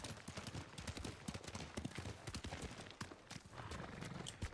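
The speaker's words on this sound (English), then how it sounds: "he has a white samurai horse too" Steady clip-clop of horse hooves at a quick trot in the video game Ghost of Tsushima, continuous and fairly close, with a faint voice now and then.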